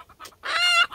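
A chicken gives a short cluck followed by a higher squawking call during wing feather clipping, close and loud, about a second long.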